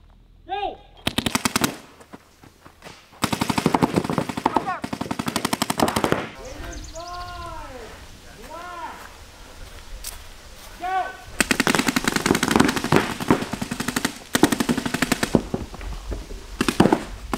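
Paintball guns firing during a paintball game, rapid bursts of sharp pops in long clusters separated by quieter stretches with shouting voices, close and loud.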